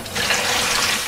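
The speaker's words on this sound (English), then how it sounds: "I usually just run them under the tap," Tap water runs steadily onto apples being rinsed in a kitchen, a brief, even splashing hiss with no talking.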